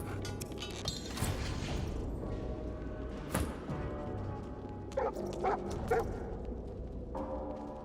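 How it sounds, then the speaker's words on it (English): Hellhounds in the fantasy RPG Divinity: Original Sin 2 yelp and bark in scattered bursts, several close together near the end, over a dense, steady game background. "Those dogs sound out for blood."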